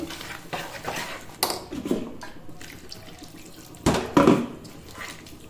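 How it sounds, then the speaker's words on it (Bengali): Water poured in small amounts into batter for milk chitoi pitha, splashing and trickling in a few short bursts with louder pours near the end, close up with no talking. "এবার এটাকে খুব ভালো করে আমি অল্প অল্প করে জল দিচ্ছি"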